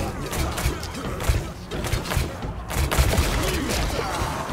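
Gunfire crackles in the fantasy strategy game Warhammer Age of Sigmar: Realms of Ruin, a rapid cluster of sharp bursts and thuds amid battle noise, fairly close and busy, with a player talking in Portuguese.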